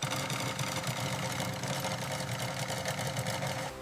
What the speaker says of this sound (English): Robotic sewing systems create strong, consistent seams.